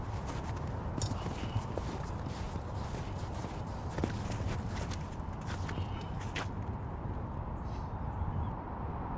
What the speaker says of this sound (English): You hear those footsteps? I think it's from over there.